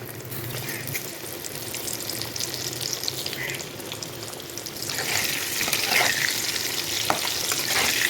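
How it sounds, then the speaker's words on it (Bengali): Potatoes fry in hot oil with salt and turmeric in a kadai, a close, steady sizzle that grows louder and denser partway through as more pieces go in. "তেলটা আমার গরম হয়ে গেছে, এবার আলুগুলো আস্তে আস্তে দিয়ে দেবো।"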